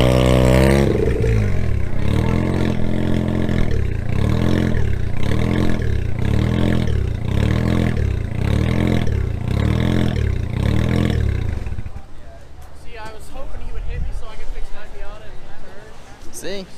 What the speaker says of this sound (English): Actually, still sounds like it's a rotary.